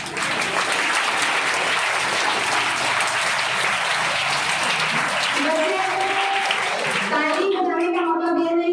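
A hall of school students claps steadily in a sustained, even burst at a school anniversary event, and near the end voices and a speaking voice emerge as the clapping fades.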